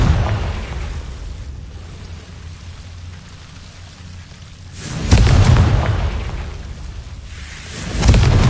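Confringo blasting spell in a Harry Potter video game, booming explosions bursting over a rumbling, rain-like crackle, with two strong blasts spaced a couple of seconds apart.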